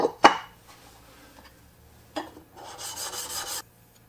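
A chisel is rubbed on a Shapton glass sharpening stone in a few short rasping strokes, close and distinct, separated by quiet pauses, ending with a longer scraping pass.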